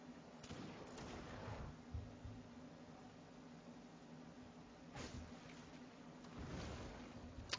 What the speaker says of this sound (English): You can see the cannons here are knocking nice chunks off this wall.